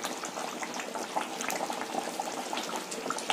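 Mint chicken gravy simmering in a pan, a steady close bubbling and sputtering with small irregular pops, moderately loud and continuous with no talk over it.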